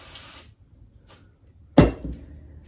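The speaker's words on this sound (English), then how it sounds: "I'm going to do that with a little bit of spray adhesive." Short hissing bursts from a can of spray adhesive, one brief spray, a faint second puff, then a sharp knock followed by another hiss.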